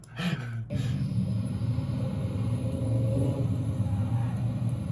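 Low, steady exhaust rumble from car traffic cruising along Woodward Avenue during the Dream Cruise, a distant throbbing drone that holds continuously after a brief sharper noise at the start.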